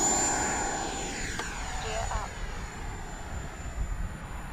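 FMS Futura 80mm V3 RC jet with an electric ducted fan flying past, a loud high-pitched whine that fades as it moves away, with a voice talking over it.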